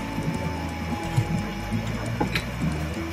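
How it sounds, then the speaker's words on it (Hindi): A home sewing machine stitches fabric up close with a rapid, steady mechanical clatter and ticking, and no talking. "इसी तरह सिलाई चलाते जाऊंगी।"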